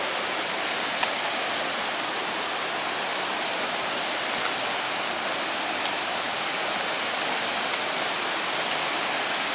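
A small waterfall on Eagle Creek Trail pours beside a cave, making a constant broad, hissing rush of falling water that holds steady and close with no voices.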